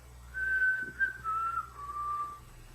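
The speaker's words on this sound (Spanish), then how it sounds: "También puedes hacer silbar, si sabes silbar" A person whistles a slow, clear melody of several sustained notes that slide gradually downward, close and alone over a faint low hum.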